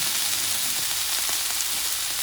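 Yak tenderloins sear in a very hot pan with a loud, dense, unbroken sizzle and hiss, close by and steady throughout, with no one speaking.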